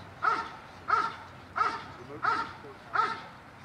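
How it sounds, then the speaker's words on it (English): A protection dog guarding during a PSA trial barks in a steady series of six sharp, evenly spaced barks, close and clear, with faint background noise. "We know he's guarding because he's barking."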